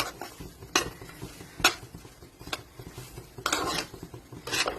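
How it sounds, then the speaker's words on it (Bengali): Halwa being fried with sugar in a pan, with a spoon stirring and scraping, sharp metallic clinks against the pan at irregular intervals over a faint, soft sizzle, close by and alone. "এখন আমি চিনিগুলো উপরে দিয়ে আবার ভাজা করব।"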